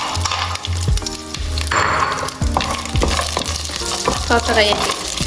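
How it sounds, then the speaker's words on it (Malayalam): Cashews and raisins fry in hot oil or ghee for payasam, giving a loud, close, continuous sizzle with stirring scrapes and clinks of a utensil against the pan. "കാഷ്യൂ കിസ്മിസ് ഇതിലേക്ക് ഇട്ടിട്ട് വറക്കാം."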